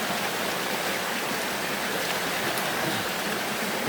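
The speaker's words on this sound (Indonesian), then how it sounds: "kita mulai seberangi sungai" A river in rough trekking country near a curug waterfall rushes and splashes steadily, a dense close wash of flowing water with no voices.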